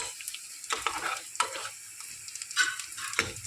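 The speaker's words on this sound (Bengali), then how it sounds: "তো দেখো বিরিয়ানির জন্য পেঁয়াজটা একটু ভেজে নিতে হবে" Onions frying in a pan for biryani, a soft close sizzle with intermittent bursts of scraping and stirring.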